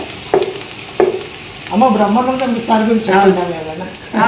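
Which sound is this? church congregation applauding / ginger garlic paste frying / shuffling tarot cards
ginger garlic paste frying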